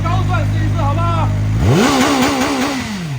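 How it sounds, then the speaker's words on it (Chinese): Close and loud, a KOVE 450RR motorcycle idles roughly, then the throttle is snapped open and the engine climbs sharply to high rpm, bouncing near its limit before easing off. "我们拉个高转试一试，好不好？"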